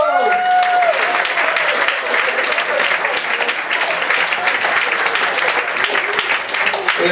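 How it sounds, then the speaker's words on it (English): Show audience gives a loud, sustained round of applause for volunteers coming on stage, dense clapping throughout, with a voice briefly heard at the start. "everyone give a round of applause"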